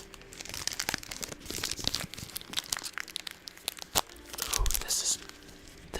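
A peppermint candy wrapper is crinkled and torn open close up in a quiet ASMR setting, a run of sharp crackles and tearing bursts building toward the end.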